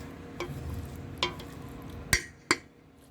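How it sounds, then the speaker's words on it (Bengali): Biryani rice being stirred together with chicken in a pot: four separate scraping, clinking strokes of the spoon over a low background hiss, close and fairly quiet. "রাইসটাকে খুব ভালো করে এখন চিকেনের সঙ্গে মিক্স করছে।"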